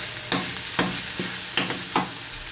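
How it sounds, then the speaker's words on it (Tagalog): Shrimp paste (alamang) sautés in a pan with a steady close sizzle, broken by about five sharp spatula scrapes at roughly regular intervals. "Igisa po natin mabuti yung alamang para hindi siya malansa."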